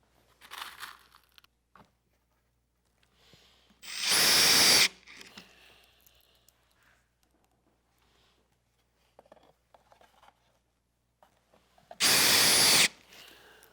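A power drill drives screws into a plywood planter top in two loud, roughly one-second whirring bursts, separated by quiet handling noises and light knocks.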